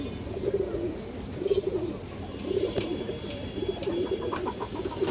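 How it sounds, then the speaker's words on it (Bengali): A large-headed, big-sized pigeon coos in a soft, low, repeated rhythm, about five throaty phrases spaced roughly a second apart, close and fairly quiet. "বড় মাথার কবুতর"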